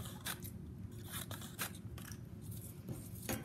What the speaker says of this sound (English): Maybe I'll just cut some strips.